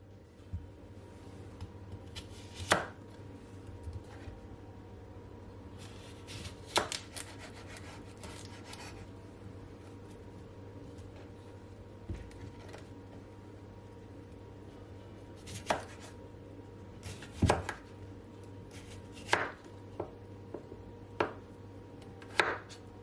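A knife chopping washed cucumber, ginger and apple on a board, with irregular sharp cuts and scraping strokes over a steady low kitchen hum, some cuts close together and others spaced apart, with no talking.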